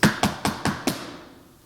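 Five evenly spaced knocks on a door come in a quick, steady rhythm, each one a soft, dull rap that fades right away. They are fairly quiet and sound alone, with no talking.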